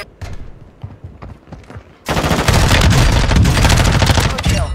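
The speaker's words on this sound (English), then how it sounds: "This MP5 is so good, dude." An MP5 submachine gun fires in Call of Duty Warzone at Fort Resurgence (Al Bagra Fortress): scattered close shots at first, then a loud, sustained rapid stream of automatic fire with no talk.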